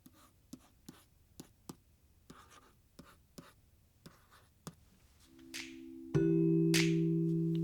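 Stylus tapping and stroking on the screen of an iFLYTEK AINOTE Air 2 e-ink tablet, a run of crisp evenly spaced ticks, then swishing strokes and a sustained tone at the end.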